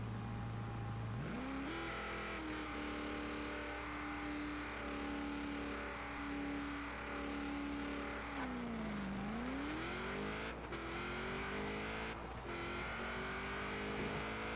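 Race car engine from the driving game Forza Horizon 4, revving high and steady with audible gear shifts and a dip as the car brakes and climbs again, loud and continuous with no talking.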